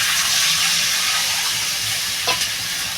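Water poured into a pan of fried fish, set for a fish-head curry, sets off a loud, steady sizzle and hiss lasting throughout, with a brief splash-like burst near the end.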